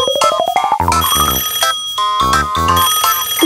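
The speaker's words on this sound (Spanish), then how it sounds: "¡El teléfono!" A cartoon telephone rings loudly in a bright, jangling electronic pattern, preceded by a rising musical slide, with repeated bursts of ringing filling the short stretch alone.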